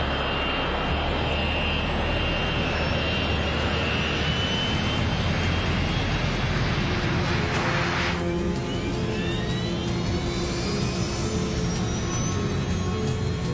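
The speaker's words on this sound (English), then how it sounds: "The 727 is seconds away from leaving the ground." Inside the cockpit, a Boeing 727 jet accelerates for takeoff from Detroit Metro's Runway 3 Center, with a loud, steady engine roar and rising whine. Rumble and pitch climb as the aircraft gathers speed.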